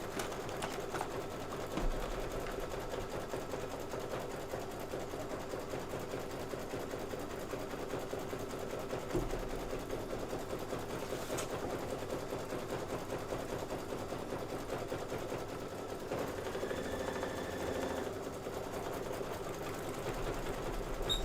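An embroidery machine stitches a star field fill on a Kimberbell Sweet Land of Liberty quilt block, running in a steady, even whir throughout with brief pauses and a few faint thumps.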